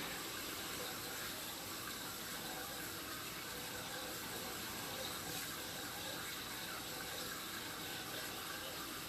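Water escaping under the ground from a leaking sewer pipe, a faint, steady rushing and trickling hiss that runs continuously without a break.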